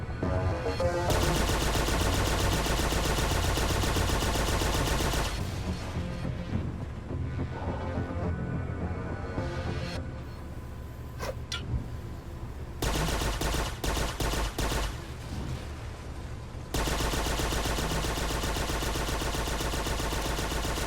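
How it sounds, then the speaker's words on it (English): Gunfire and turret shooting in Toy Soldiers: War Chest on Xbox One, dense bursts of rapid automatic fire and explosions over a loud game soundtrack, with the shooting intensifying in stretches. "The enemy will shoot back at you, and your turrets will get damaged over time."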